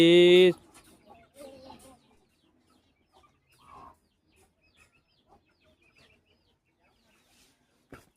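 A guinea fowl gives one loud, harsh call at the start during training, followed by faint scattered clucks and a quiet voice in an otherwise hushed setting.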